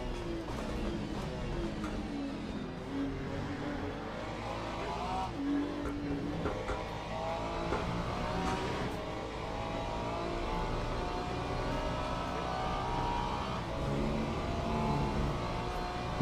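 A McLaren race car engine in the Le Mans Ultimate racing game roars steadily for the whole stretch, its pitch rising and falling through gear changes at constant loud volume, with no voices over it.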